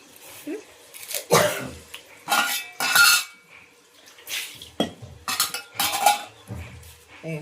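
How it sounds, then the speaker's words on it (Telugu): A utensil scrapes and clanks against a pan while okra chutney with dried red chilies is stirred, giving irregular metallic bursts and clatters with quiet gaps between them. "ఎండుమిర్చి కూడా వేసేస్తున్నాను సరేనా వేసేసిన ఇప్పుడు కొంచెం కలమాకేద్దాం"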